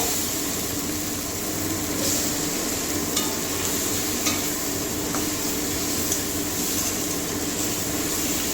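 A spoon works through a spice mixture with Kashmiri red chili in a pan, the steady scraping and stirring running over a soft, constant sizzle. Faint clicks of utensil on metal come through now and then, and no voice is heard.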